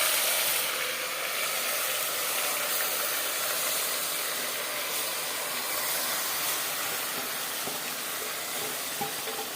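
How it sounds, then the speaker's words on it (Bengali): Marinated mutton sizzles as it drops into hot refined oil in a pan, giving a loud, steady, broadband hiss that holds evenly for the whole stretch. "বেশ খানিকটা রিফাইন্ড অয়েল গরম করে নিয়েছি। এবার দিয়ে দেবো ম্যারিনেট করে রাখা মটন।"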